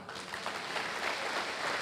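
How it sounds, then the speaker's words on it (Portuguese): A church congregation applauds during a worship service, a steady wash of many hands clapping at moderate distance, fairly quiet and continuous with no voices over it. "Aplauda ao Senhor"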